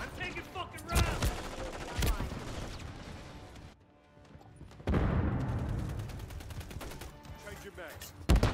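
Call of Duty Black Ops 6 combat fills the scene with sharp gunshot cracks and bursts of automatic fire, loud and close, with a brief lull midway and shouted voices over the shooting.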